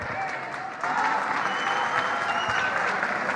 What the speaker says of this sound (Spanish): ahí estamos escuchando los aplausos de la gente